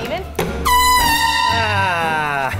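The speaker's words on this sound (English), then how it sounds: "Take that air horn away from me" A loud, sustained air horn blast kicks in abruptly and holds for about two seconds, preceded by a brief voice.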